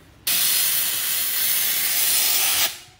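A handheld portable steamer releases a loud, steady hiss of steam that starts abruptly, holds for about two and a half seconds, then cuts off, used for cleaning dust off a ledge.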